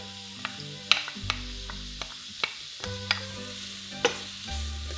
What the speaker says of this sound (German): Dann lasse ich anbraten, bis die Zwiebel glasig wird